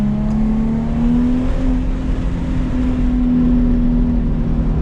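A 2007 Infiniti G35 gasoline engine revs steadily while driving, a loud, close, continuous drone holding a strong low tone with slight pitch shifts throughout, heard alone without voices.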